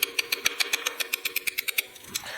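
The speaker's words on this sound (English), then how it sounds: "To do that, I'm going to drive this roll pin out." A roll pin is driven out of the clutch fork on a 1985 Porsche 911 Carrera with a quick run of about fifteen sharp, ringing metallic hammer taps. The strikes are close and evenly spaced, then slow and fade at the end.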